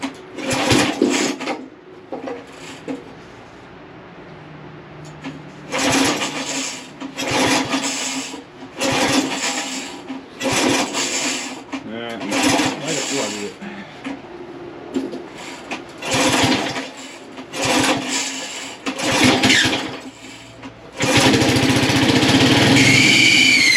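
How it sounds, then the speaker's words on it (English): An old Lazy Boy riding mower engine, started for the first time in decades, runs in uneven bursts with a rough mechanical drone, and a squealing clutch adds a high whine; the sound is loud and close throughout. "she's a squealer. That clutch needs a little attention, but she's gonna run."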